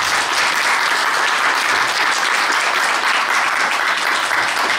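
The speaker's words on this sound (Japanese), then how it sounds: "大きな拍手を。" A crowd at a Japanese professional wrestling show in Takashimadaira applauds after a match, a dense, loud, steady wash of clapping that holds without a break.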